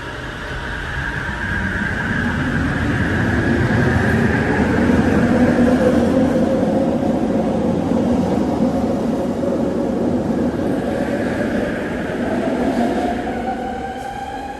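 A train pulls away from a station platform, its motors whining upward in pitch as it accelerates, a loud rumbling roll that swells and then eases off as it recedes, with no voices.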